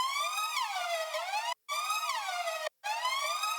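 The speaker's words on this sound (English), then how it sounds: "This Mayday siren is really cool, and I got that ducking with the kick." A looping mayday-style siren sample in a hyperpop track wails in repeated sweeping tones, briefly cutting out twice as it ducks under the kick drum, with no voices.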